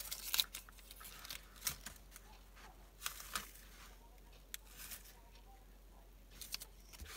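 Double-sided tape has its backing peeled away while a Christmas decoration structure is being assembled, giving faint, quiet crinkly tearing bursts at irregular intervals with low background hiss in between.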